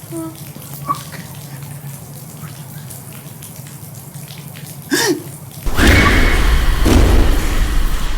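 Water from an opened tap or pipe starts suddenly partway through and then rushes loudly and steadily, after a quieter stretch of room tone with a few faint knocks.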